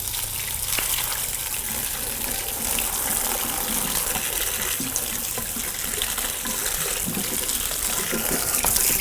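Herbal ingredients rinsed under a running kitchen tap, water gushing steadily into a sink with splashing and handling noises throughout, close and continuous with no talk.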